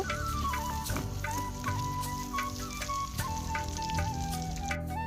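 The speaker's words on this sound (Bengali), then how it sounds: "দিয়ে দেবো পেঁয়াজ কুচি কাঁচামরিচ দিয়ে পেঁয়াজটাকে ভালো করে ভেজে নিব" Chopped onions and green chilies frying in a pan: a steady, close sizzling hiss with occasional stirring scrapes throughout, no talking.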